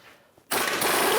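A ratchet wrench with a 21mm socket clicks rapidly while loosening a control arm bolt on a 2011–2019 Ford Explorer, a brief quiet pause followed by a sudden, loud, continuous ratcheting burst up close.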